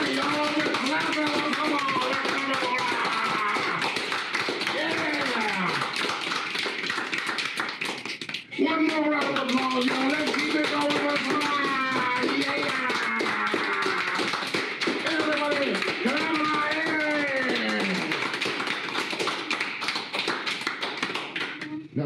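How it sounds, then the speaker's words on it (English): A group claps in a steady stream of quick, overlapping taps that runs the whole time, mixed under loud, continuous talking voices. "Yeah, y'all, we're clapping."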